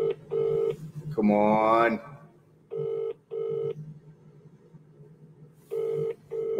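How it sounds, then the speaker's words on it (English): A telephone is dialed for a call: short bursts of dial-tone beeps come in pairs, broken by a loud buzzing tone, then more paired beeps over a faint hum. One brief spoken remark comes between them. "We'll keep trying. We want this phone call."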